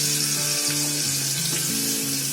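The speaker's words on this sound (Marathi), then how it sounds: "कांदा थोडा फ्राय करायचा," Onion fries in a pan for a shrimp rice dish, giving a steady, close hiss and crackle that continues throughout, with faint background tones beneath.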